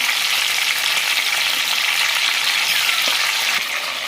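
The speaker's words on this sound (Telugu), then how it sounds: "ఇక్కడ పచ్చిమిర్చి స్వెట్ అవుతుంటుందండి" Green chillies fry in a pan for a Telangana-style stuffed brinjal curry, giving a steady, loud, dense sizzle that holds evenly throughout with no talking.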